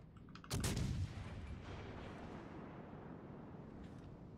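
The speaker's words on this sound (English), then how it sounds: "That was a quick shot." A naval gun fires in the World of Warships Legends video game: one loud, deep boom near the start, then a long rumbling tail that fades slowly, with no voices.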